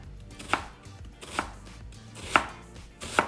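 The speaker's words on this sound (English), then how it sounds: "I can cut this onion up pretty good" A knife chops through an onion on a cutting board at home, four distinct crisp strikes spaced roughly a second apart, close and clear with no talking.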